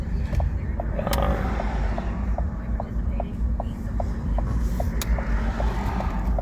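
Car idling and creeping along in slow school-zone traffic, a steady low engine rumble with faint ticking, close and continuous with no talk.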